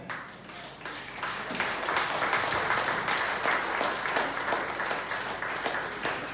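A church congregation claps in steady, dense applause that holds throughout, loud and filling the room, with a faint voice beneath.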